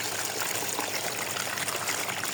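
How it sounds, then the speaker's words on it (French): Water trickles and splashes steadily from a small homemade model waterfall built with a tarp and moss, a continuous close wash of sound with no talking. "j'ai de l'eau qui traîne à cause de la belle cascade que je viens de fabriquer"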